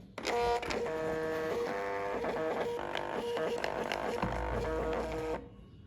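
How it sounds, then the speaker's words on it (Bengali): An HQ300 printer prints a sticker, giving a close, steady mechanical buzz and whine with a rapid stepping rhythm that runs for several seconds and then stops. "আমি এটার প্রিন্ট দিলাম"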